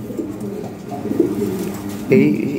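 A pair of silver Lahore pigeons coo softly at close range, giving a few low, throaty calls, with a louder coo near the end.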